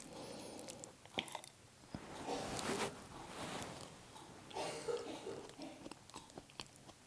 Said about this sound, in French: Allez, on passe à la dégustation.